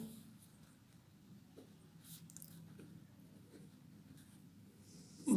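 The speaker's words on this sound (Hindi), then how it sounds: "ब्रेव मैं लिखता हूँ" A teacher writes the word brave on a classroom board, faint scratching strokes at close range over a low room hum, with no voices.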